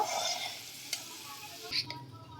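Peanuts fry in oil with a quiet, steady sizzle, broken by a couple of brief scrapes and clinks as they are stirred in the pan.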